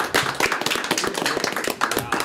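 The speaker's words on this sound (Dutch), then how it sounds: "Nog een keer een applaus voor Valken." Clapping for the Valken football team at a Dutch amateur football broadcast, a short burst of hand claps with chatter and voices mixed in.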